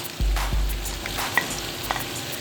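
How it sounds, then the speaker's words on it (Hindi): Chicken sizzles and fries in a hot karahi with ginger and garlic paste while being stirred, with a few low thumps and clinks of a utensil against the pan. "लहसुन अदरक के पेस्ट के साथ अब इसको फ्राई होने देंगे गोश्त को"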